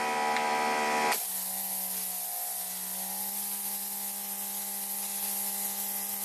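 A Greenworks 2700 PSI electric pressure washer kicks on and sprays through a turbo nozzle, a loud steady hissing spray over a constant motor hum that holds without pause after the start.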